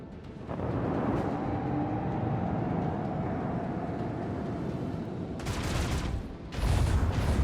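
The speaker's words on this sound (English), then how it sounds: "We're gonna get hit by these torpedoes." Torpedoes strike a ship in the video game Warhammer 40k Rogue Trader. A continuous heavy rumble of impacts is followed by two sharp, loud blasts near the end.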